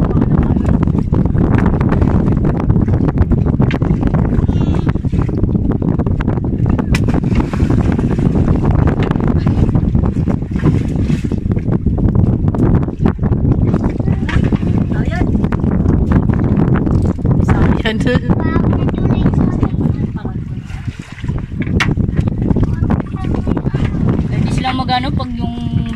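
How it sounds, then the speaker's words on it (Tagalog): Strong sea wind roars and buffets the microphone aboard a small boat out on a net-fishing trip, loud and unbroken for the whole stretch, with voices faintly mixed in. "Lakas na ng hangin."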